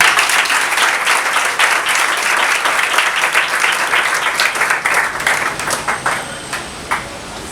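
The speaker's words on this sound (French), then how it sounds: "Applaudissez-vous." An audience at a civil wedding ceremony breaks into loud, sustained applause that gradually thins out toward the end.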